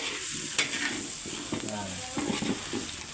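A pot of Batangas puchero being stirred over a sizzling flame, with scraping strokes and bubbling simmer, a faint voice murmuring in the background.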